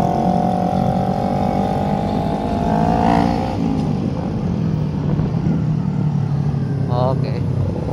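A motorcycle fitted with a racing exhaust rumbles and revs steadily up close during a Sunday morning group ride in Jakarta, with engine drone filling the whole stretch and a brief louder swell partway through, while people talk over it.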